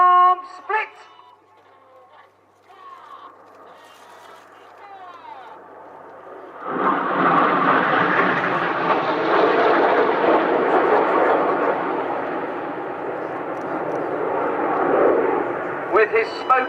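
Red Arrows display jets at RIAT 2014 perform the Palm Split, a distant engine hum swelling into a loud, broad roar of jets passing overhead that lingers and fades, with a commentator's voice early on.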